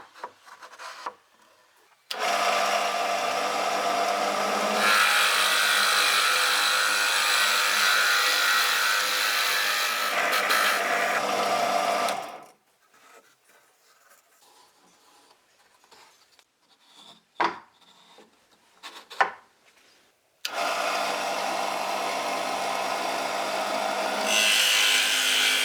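A drill press bores into a small wood cube in two long, loud, steady runs of grinding, rasping cutting, separated by a quieter stretch of faint handling clicks and knocks.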